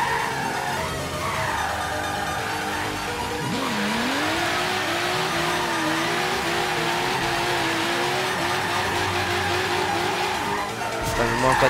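Racing car in Forza Horizon 3, a Japanese model, pulling away in third gear and drifting, with a steady engine drone rising and falling in pitch and tire squeal throughout, loud and continuous under faint background talk.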